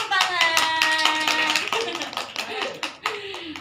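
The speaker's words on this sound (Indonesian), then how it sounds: "Tepuk tangan." Children clap their hands together in a quick, roughly rhythmic burst at a library storytelling session, near and fairly bright, with a few small voices mixed in as the clapping trails off.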